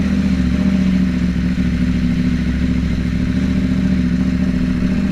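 A KTM 790 Duke motorcycle being ridden at night, its engine droning steadily and loudly up close with a constant throbbing hum and no voices.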